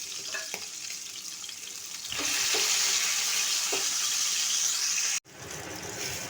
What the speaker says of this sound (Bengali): মাছগুলো এক পাশ ভাজা হয়ে গেলে অপর পাশে উল্টে দিতে হবে।